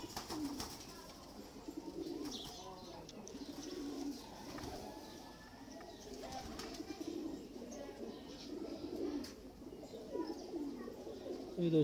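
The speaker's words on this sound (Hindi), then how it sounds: "शौक वाले कबूतर ही हैं" Fancy breeding pigeons coo repeatedly in soft, rolling bursts, several birds overlapping close by, with faint chirps and light rustling in the background.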